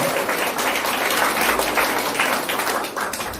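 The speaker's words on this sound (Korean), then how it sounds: "큰 박수 주시면 감사될 것 같습니다." A crowd applauds a provincial council candidate at a campaign greeting event, steady mid-level clapping with no voices over it.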